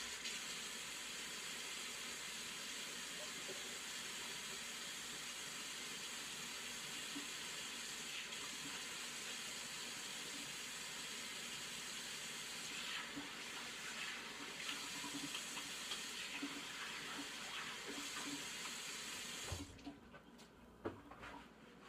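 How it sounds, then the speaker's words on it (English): Tap water runs steadily into a sink while hands are washed, a constant hiss for about twenty seconds before the flow cuts off, followed by a few small clunks. "I'm gonna wash my hands real quick."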